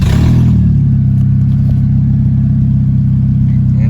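A Honda K24 engine swapped into a Toyota MR2 SW20 roars loudly and close, with a brief rev at the start settling into a steady, strong drone for several seconds.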